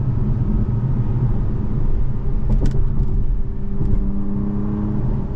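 A 2023 Acura TLX Type S moving quickly down a road, its steady engine and tire rumble swelling as the automatic shifts gears on its own, heard from inside the cabin with no talking.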